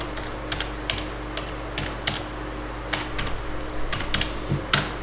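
Someone types a PAN number into Tally Prime on a computer keyboard, producing a run of crisp, irregular key clicks over a low, steady room hum.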